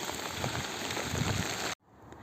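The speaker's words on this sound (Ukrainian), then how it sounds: "Оу, дощ почався." Rain falling steadily onto a garden in England during June, a dense close hiss of drops on leaves and surfaces that cuts off abruptly near the end.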